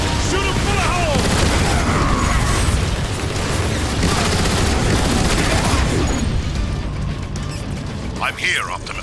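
Gunfire and clanking weapon effects from the video game Transformers: War for Cybertron, a dense, loud, continuous barrage with mechanical clatter and booms, mixed with voices talking over the action.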